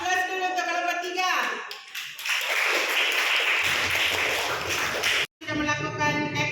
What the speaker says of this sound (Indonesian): Aplaus dulu untuk kelompok 3